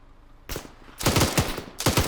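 Automatic gunfire in the Arma 3 video game, a short burst followed by two longer rapid volleys, loud and close, with no voices.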